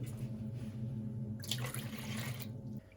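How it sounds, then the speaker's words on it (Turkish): Warm water, two glasses of it, is poured into a pizza dough mixture, a close continuous splashing stream over a low background hum that cuts off near the end. "Bir de suyumu da ilave edeyim. 2 su bardağı"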